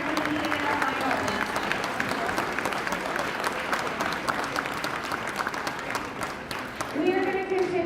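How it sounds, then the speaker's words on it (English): Sustained applause from a competition finals audience fills the space, with scattered cheers and voices rising above the steady clapping. "a round of applause is needed for Alliance 6 to be up here and competing in our finals"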